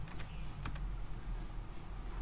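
A few scattered computer keyboard keystrokes, faint and close, tapping out a date entry with short gaps between clicks over steady low room hum.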